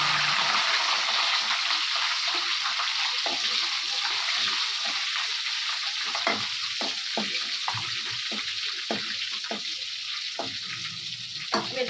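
Cumin and mustard seeds fry in hot oil for a dried fish and egg curry, giving a loud continuous sizzle broken by frequent sharp pops and crackles.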